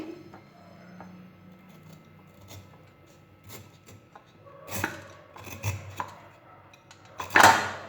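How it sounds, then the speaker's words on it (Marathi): A knife cutting the outer skin off a jackfruit, soft scraping and rasping strokes that build into louder chopping scrapes near the end, close up with no talking. "आपल्याला हे बाजूचं जे बाहेरची त्याची साल जी आहे ती काढायची आहे"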